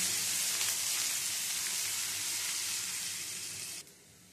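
Chopped onions sizzle steadily in hot oil for a Bengali home-style dish, a close, continuous crackling fry that cuts off abruptly near the end, with no voices.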